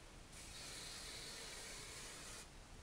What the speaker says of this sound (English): And then I'm going to take my hairspray